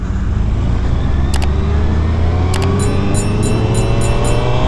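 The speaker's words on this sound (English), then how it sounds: "surprisingly here with the Hayabusa, rolling on this throttle" A 2022 Suzuki Hayabusa motorcycle on the track at Sonoma Raceway, its engine droning steadily and loudly as the throttle is rolled on, with wind rush around it.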